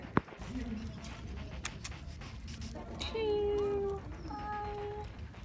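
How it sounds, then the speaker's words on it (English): Stray cats meow in the Rabat medina in Morocco. A clear drawn-out cat call is followed by a couple of shorter meows, set against street ambience with faint background noise. "there are stray cats everywhere"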